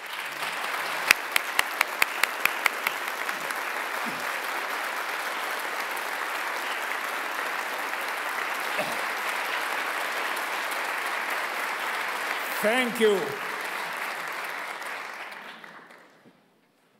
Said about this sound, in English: You applaud too much